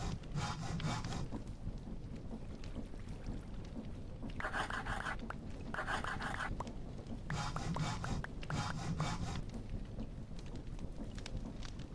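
Crafting with a file in a modded Minecraft-style game, a repeated rasping, sawing scrape in short bursts over a low rumbling background, with no voice.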